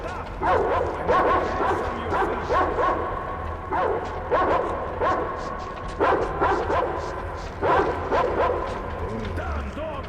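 Dog barking in the Metro video game, repeated sharp barks and yips in irregular bursts with whimpering tones, close and loud, while a person talks over it.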